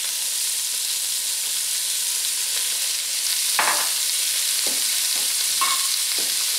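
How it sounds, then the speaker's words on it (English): Roughly sliced carrots and diced onion sauté in a pot for red wine beef stew, a constant hissing sizzle with a few spoon knocks and stirring clacks near the end. "I'm going to sauté the carrots and the onions"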